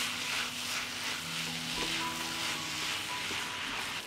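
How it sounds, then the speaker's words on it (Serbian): Cabbage fries in a pan with sweet ground paprika over lower heat, a soft, even sizzle with faint stirring scrapes, fairly quiet and with no voices. "Sve ću ovo promešati i pržiti na nižoj temperaturi 30 minuta."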